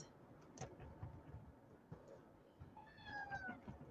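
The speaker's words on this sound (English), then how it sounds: "my cat meowing, if you heard him." A cat meows faintly a couple of times, with a longer drawn-out meow near the end, over low background noise.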